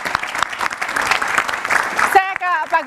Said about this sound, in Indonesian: Tepuk tangan untuk Pak Habib.